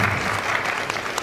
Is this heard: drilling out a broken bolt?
no